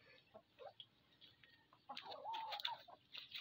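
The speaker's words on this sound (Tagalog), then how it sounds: "Ayan yung manok ko." A chicken clucks in a backyard garden in the Philippines, faint scattered clucks building into a louder run of throaty calls, fairly close, with quiet ambience between.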